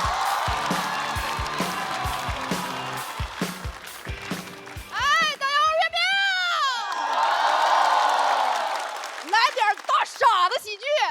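An audience at a stand-up comedy show claps and cheers with whoops, loud and sustained, as a comedian is welcomed onstage, with some music and shouting voices mixed in.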